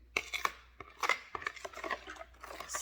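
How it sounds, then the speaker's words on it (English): A spoon stirring yeast with sugar and salt in a bowl for puff-puff dough, with quick, uneven clicks and scrapes against the bowl, close and fairly soft. "stir my yeast to mix with the sugar and the salt"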